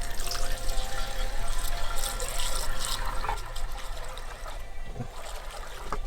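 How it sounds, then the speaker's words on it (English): Freshly mixed 32:1 two-stroke petrol poured into a go-kart fuel tank, a steady close trickle of liquid running for several seconds with a faint gurgle near the end. "I have some 32:1 two-stroke petrol I just mixed up. I'll pop some in."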